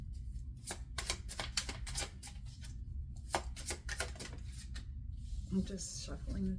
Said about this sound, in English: shuffling the deck